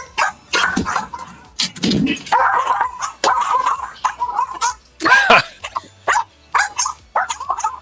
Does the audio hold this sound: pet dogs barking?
yes